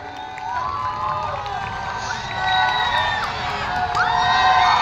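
A crowd at an outdoor local cricket match cheers and shouts, with excited children's voices and whoops rising and swelling toward the end of a short burst of celebration.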